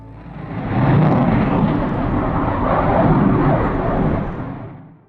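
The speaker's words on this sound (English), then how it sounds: "RAF Typhoon fighter jets and a Voyager air-to-air refueling tanker powered off the tarmac" An RAF Typhoon fighter jet taking off from an airbase, a broad roaring engine blast that swells up, holds loud and steady for several seconds, then fades as it moves away.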